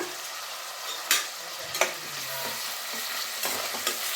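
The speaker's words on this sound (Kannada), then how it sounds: "2 ಟೊಮೆಟೊ ಕಟ್ ಮಾಡಿ ಎತ್ತಿಟ್ಕೊಂಡಿದ್ದೀನಿ, ಅದನ್ನು ಹಾಕಿದ್ದೀನಿ." Two chopped tomatoes sizzle in a hot pan while a utensil stirs them, with a steady frying hiss broken by a few sharp scraping strokes against the pan, close and alone with no talking.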